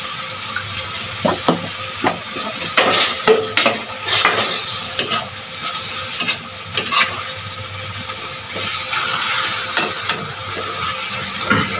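Pork ribs and string beans sautéing together in a pan for a home-cooked dish, a steady close sizzle broken by repeated scraping and stirring knocks, with no talk.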